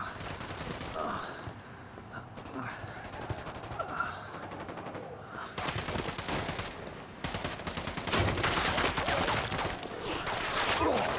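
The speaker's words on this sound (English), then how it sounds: "Taking fire from the camp entrance." Gunfire from the Ghost Recon Wildlands video game at a prison village camp, with repeated bursts of automatic shots and rapid volleys continuing over a dense, noisy game soundscape, louder and more intense in the second half.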